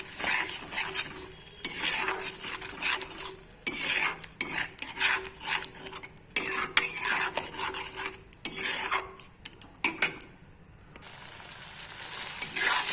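A spoon scrapes and stirs a yogurt and cashew mixture into a fish egg curry in a pan, with repeated rhythmic strokes against the metal and a soft sizzle underneath, fairly close and moderately quiet.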